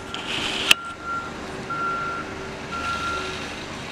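A truck parked on a snowy Buffalo street during the 2022 blizzard emits steady reversing beeps, spaced about a second apart and heard at moderate distance over a constant low rumble, with a brief sharp click near the start.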